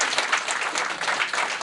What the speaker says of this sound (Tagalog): Maraming salamat po sa lahat ng pumalakpak.